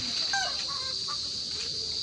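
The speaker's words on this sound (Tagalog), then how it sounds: "Ayan na po yung mga manok namin." Chickens cluck softly in short bursts against a steady high-pitched insect drone outdoors.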